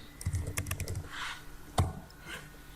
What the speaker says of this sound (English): Let me just go ahead and type this.